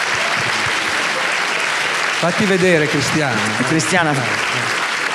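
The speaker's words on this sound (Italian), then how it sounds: "che salutiamo con un applauso" Audience applause greets screenwriter Cristiana Mainardi at a cinema event, steady and full throughout, with someone speaking briefly over it partway through.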